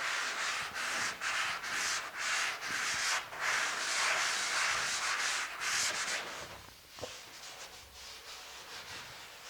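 A drywall knife scrapes over joint compound in inside corners, with a series of close, rasping strokes in quick rhythm that ease off toward the end, followed by quieter, sparser scraping.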